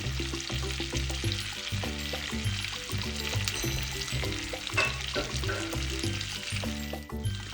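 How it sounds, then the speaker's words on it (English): Sliced parsnips, celery stalks and quartered red onion sizzle as they are stirred in a pot for pot roast. The soft, constant frying hiss sits under louder rhythmic background music. "We're going to stir those vegetables frequently, scraping up the bottom of the pot until the vegetables really start to color"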